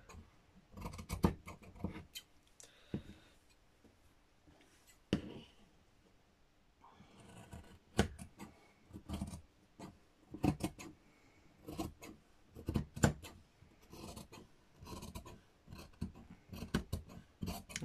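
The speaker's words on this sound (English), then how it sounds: "So what I might do is just use my scissors." Scissors snip through the fabric cover of a needle book, a series of close, crisp cuts in irregular bursts with quiet pauses between them.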